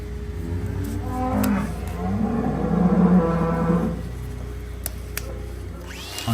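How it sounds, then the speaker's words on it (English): Cows on a farm moo in the background, with a long, low call that rises and fades over steady ambient noise. A few sharp clicks come through, and no one speaks. "There are cows all around us right now, which is what you can hear in the background"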